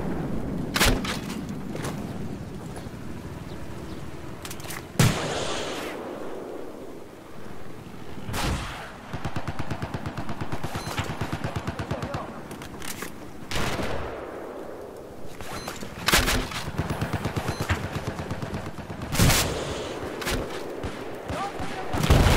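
Battlefield 4 multiplayer on a Sunken Dragon map: sharp, loud gunshots and heavy booms burst at irregular intervals over a continuous crackle of fire. People talk throughout.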